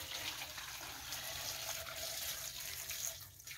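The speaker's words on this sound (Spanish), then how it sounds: "voy a echar el agua" Water pours steadily into a cooking pot in a steady, close hissing splash that runs the whole time without a break and without voices.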